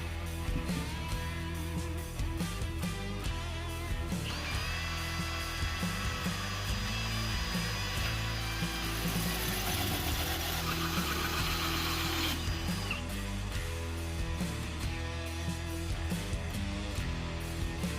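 Continuous buzzing drone of a jigsaw cutting a 2.5-inch hole for an AC vent bracket on a 1947-53 GM truck, close and loud throughout, with a brighter, higher whine partway through the cut.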